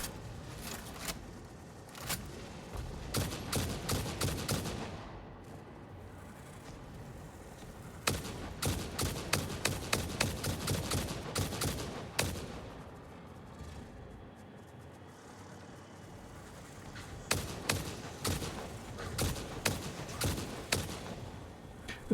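Gunfire in the video game Satisfactory comes in bursts of sharp, rapid shots separated by short pauses, loud and close over a steady background rumble of the game.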